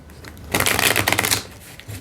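A deck of tarot cards is shuffled close by in one quick riffle, a loud flurry of rapid fluttering clicks lasting under a second, with a lighter shuffle near the end.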